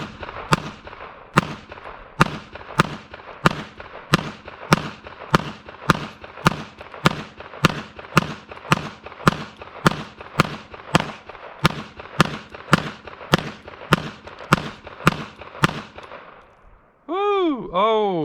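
.22 Magnum pistol fired in rapid, evenly spaced succession, around twenty loud sharp cracks over fifteen seconds at an outdoor range, ending in a short warbling electronic tone.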